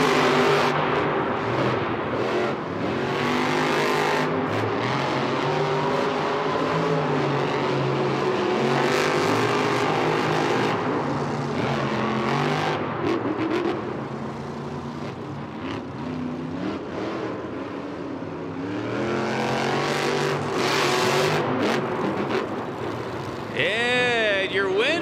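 Monster trucks El Toro Loco and Excalibur race in a stadium, engines roaring loud and steady with revving swells and a whining rise at the end, under continuous announcer talk and crowd noise.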